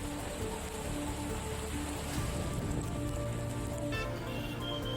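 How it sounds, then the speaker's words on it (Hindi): Heavy monsoon downpour over flooded roads and homes in Aravalli district, Gujarat, a steady dense hiss of rain on surfaces and water, moderately quiet and even, with some faint tonal sounds late on and no talk. "मूसलाधार बारिश से सड़कें और रिहायशी इलाके पूरी तरह जलमग्न हो गए हैं"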